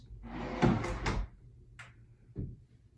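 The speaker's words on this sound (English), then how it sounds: "Not only are they on the cabinets as soft closing hinges, but soft closing drawers." A soft-closing cabinet drawer in a Redman Homes Athens Park Series manufactured home slides shut with a muffled rolling rush and a soft bump, followed by a couple of quieter thuds, close by with no talking.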